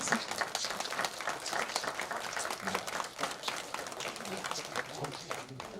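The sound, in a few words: audience applause for lecturer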